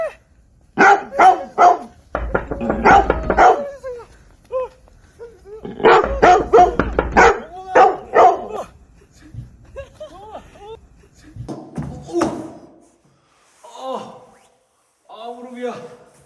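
A dog barks in a few bursts among lively talking voices, close and fairly loud, with a child's storytelling scene playing around it.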